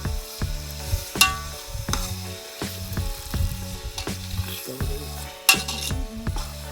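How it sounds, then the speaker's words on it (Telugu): Beer chicken with chillies fries in a pan over a jungle camping fire, a steady sizzle broken by a regular rhythm of metal spoon scrapes and knocks as it is stirred, close and fairly loud. "ఇప్పుడైతే మనము చికెన్ అయితే ఉడికిద్దాం"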